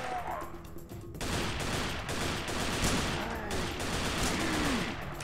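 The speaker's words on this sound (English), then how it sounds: "let's go assault rifle. See if I can get more dudes faster" Rapid assault-rifle fire in the shooter game Serious Sam 3: BFE, a dense, continuous rattle of shots that starts abruptly after a brief quieter moment and stays loud throughout.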